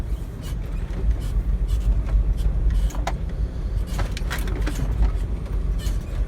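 Car rolling along narrow back roads past a village house, a steady low engine and road rumble with occasional knocks and light rattles inside the cabin, continuous and fairly close.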